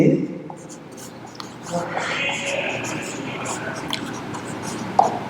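A pen writes by hand on paper during a Hindi lesson on parliamentary bills, a steady soft scratching under a low, whispery voice, with one sharper tap near the end.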